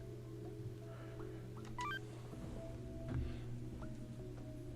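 A phone in the video game Catherine is handled, giving short electronic beeps and tones over a low steady hum, with no talk.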